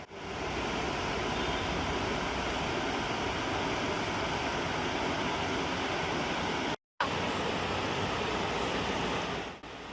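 A river swollen by a landslide of rock and a fallen tree rushes in a loud, unbroken roar. The flow sounds steady and close, with one brief cut of silence near the end.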